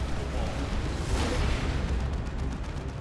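A Lance Cannon Predator in Dawn of War 2: Retribution fires a heavy shot and explosion, a dense roaring blast that swells and fades over about three seconds amid constant battle noise.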